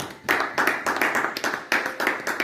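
A church congregation claps hands together in a steady, fairly quick rhythm, about eight sharp bursts over a couple of seconds, with no one speaking.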